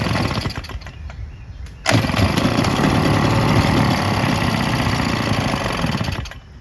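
A Husqvarna 150BT two-stroke backpack leaf blower catches and starts near the two-second mark. Its engine jumps to a loud, steady running roar up close before dropping off near the end, with no voices.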